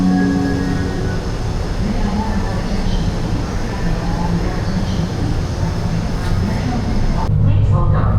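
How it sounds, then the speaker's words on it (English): A train approaches a station in Miami with a steady, loud rumble and roar of wheels on rails throughout, ending in a brief squeal as it slows. "The train is approaching."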